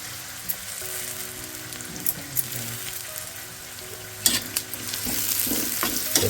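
Onion, curry leaves, garlic and tomato frying on a tawa for an oyster fry, a soft continuous sizzle with scattered utensil clinks and stirring scrapes that grow busier toward the end.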